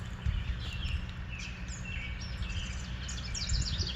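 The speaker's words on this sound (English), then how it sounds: "Do you hear those birds singing?" Several birds chirp and trill at a distance, scattered short calls over a quiet low hum of outdoor ambience.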